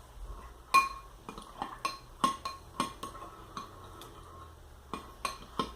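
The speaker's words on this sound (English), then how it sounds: "Stir it really good." Slime mixture being stirred with water in a container, a series of sharp clinks and taps of a utensil against the sides, irregular but frequent, close and alone without talk.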